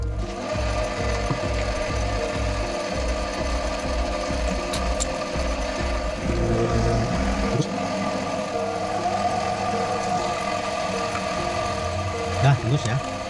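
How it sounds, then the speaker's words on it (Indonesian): An 8 mm drill bores through a metal valve head for an air-regulated screw adjuster, the lathe running with a steady grinding hum and rhythmic low thumps that ease off midway, close and continuous. "Ini bor 8 sampai tembus ya."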